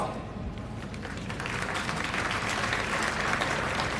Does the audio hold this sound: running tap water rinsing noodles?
no